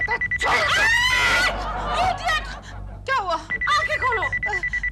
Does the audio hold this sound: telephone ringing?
yes